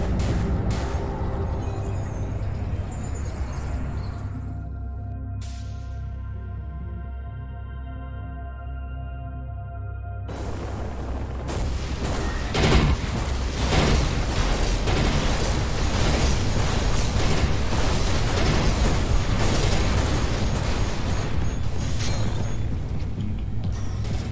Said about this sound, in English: I guess I have enough secondary missiles to take the boss down.